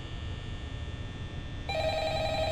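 A telephone begins ringing in the Five Nights at Freddy's video game, its tonal electronic ring rising over a constant low hum partway through, with no talking.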